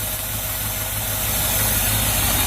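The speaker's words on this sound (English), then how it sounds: "there's the engine on this side, and it idles really smooth" A 1997 Land Rover's 4.0 engine idles steadily and smoothly up close, a continuous low rumble with faint mechanical vibration and no talking.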